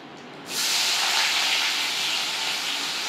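Onions dropped into hot oil after frying eggs for an egg, poppy seed and onion curry, a sudden loud sizzle that bursts in after a quiet moment and holds as a steady close hiss.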